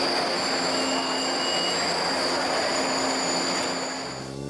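A crowded commuter train rolls by loud and close, with a steady roar, a rumble, and high metallic wheel squeal that fades slightly at the end.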